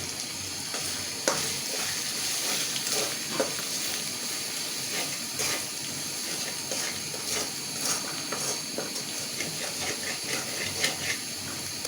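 Ground salt, coriander, cumin, chili and turmeric sizzle in hot oil with ginger-garlic while being stirred in a pan, a dense continuous frying hiss with frequent close scraping taps of a spatula.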